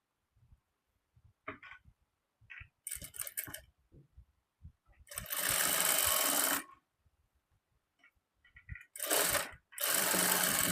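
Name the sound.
sewing machine stitching blouse shoulder seam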